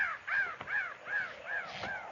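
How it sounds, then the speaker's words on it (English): Several crows caw in a repeated series of harsh calls, about one every half second, fairly close and clear over a quiet outdoor canyon backdrop at sunset, staged as a radio drama sound effect. "Those crows ain't flying."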